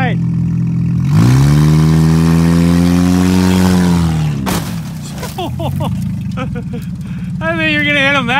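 KTM 450 quad engine revving hard for a burnout on a Buick roof, a loud sustained high rev that holds, cuts off, then stutters in rough bursts and climbs again, with people talking.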